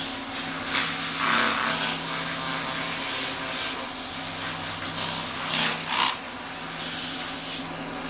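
Hand sanding with 120-grit sandpaper, a close, steady scratchy hiss of strokes that swells and fades in repeated passes.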